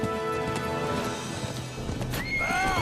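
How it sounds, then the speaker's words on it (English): A horse in Kingdom Come Deliverance 2 gallops with quick hoofbeats and then lets out a loud, wavering neigh near the end, amid busy game sound. "Oh, there goes my horse."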